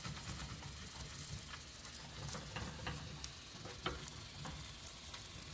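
Methi paratha, a fenugreek flatbread, frying in ghee on a hot pan, giving a steady close sizzling hiss dotted with small crackles and ticks, with no voices.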